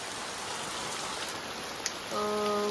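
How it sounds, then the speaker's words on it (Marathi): Steady rain falls outdoors during a Konkan coastal trip, an even, soft hiss of drops on surfaces that continues throughout, with a brief tapping click and a faint tonal hum joining near the end. "आता बाहेर पाऊस पडतोय"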